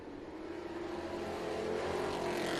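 Sprint cars at a dirt track race come off turns 3 and 4 in a pack, a loud sustained engine roar building steadily as they power out of the corner, with no talk over it.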